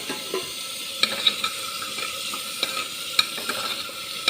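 Mixed vegetables for a baby's meal stirred in a pan, a spatula scraping and tapping at an irregular pace over a faint sizzle, close and fairly quiet, no voices.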